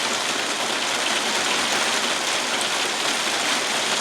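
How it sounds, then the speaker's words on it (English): Steady, dense rain pours down outdoors during a live evening broadcast, a loud continuous hiss filling the whole clip with no pauses and no talk over it. "Hopefully you guys can hear me over the rain."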